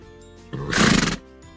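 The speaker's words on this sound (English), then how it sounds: "There is also pony riding to enjoy the view here." A pony at an outdoor pony-ride spot gives one loud, close whinny, with light hoof clip-clop around it.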